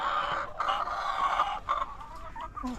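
Chickens clucking close by in a coop, a run of busy overlapping clucks and calls.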